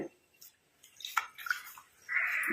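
Water splashes and drips in short, irregular bursts as a face is washed by hand, close and moderately loud, ending in a longer rush of water.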